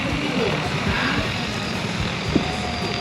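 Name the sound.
DJI T20 drone flying with large propellers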